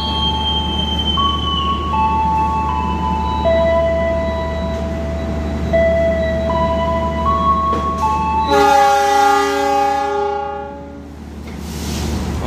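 KA Mataram passenger train departs Pasar Senen station, a sustained loud horn with shifting tones sounding over the steady rumble of the train, with no voices.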